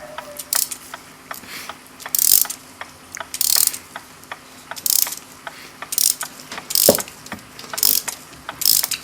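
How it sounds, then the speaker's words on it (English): Mainsprings of a Gilbert kitchen clock being wound during a service, giving rapid sharp ratchet-and-pawl clicks in repeated bursts, close and clear, with no voices. "We'll tighten up the springs, wind them right up."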